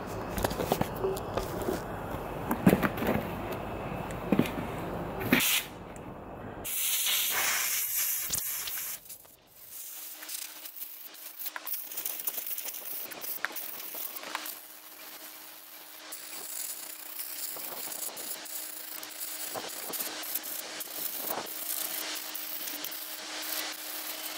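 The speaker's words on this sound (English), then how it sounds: "we just got the compressor on and we're gonna dry it off with the Airline" A compressor-fed airline blows compressed air to dry off a winter bike, giving steady close hissing blasts after a short burst of rustling at the start.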